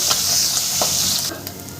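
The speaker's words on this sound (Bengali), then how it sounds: "আরও দুটো মাছ আছে আমি সুন্দর করে ভেজে নেব" Pabda fish frying in a pan, a steady loud hiss of hot oil with small crackles and pops throughout, easing slightly near the end.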